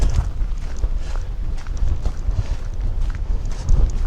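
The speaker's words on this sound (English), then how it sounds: "The wind's picked up." Strong wind buffets the microphone on a misty hillside walk, loud low rumbling gusts with occasional thumps, close and continuous, no voices.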